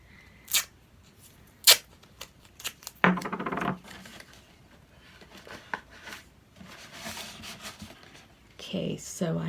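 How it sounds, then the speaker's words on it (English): Pieces of masking tape are handled during a crankie-making workshop at a festival, giving sparse crinkles, taps and a short tearing rustle, with brief sharp clicks and a low murmur of people in the background. "I have a piece of masking tape here, and I need 1 more piece"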